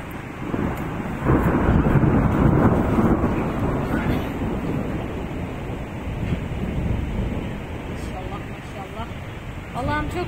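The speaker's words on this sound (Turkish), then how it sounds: "Hem rüzgar hem yağmur var şu anda." Gusty wind and rain outside a terrace, a steady roaring wash of noise with buffeting wind against the microphone throughout, loudest early on and easing slightly later.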